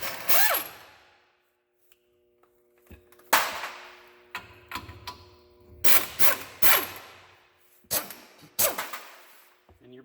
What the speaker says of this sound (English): 7/8 socket and our 3/8 impact. And we're going to take off these top two nuts.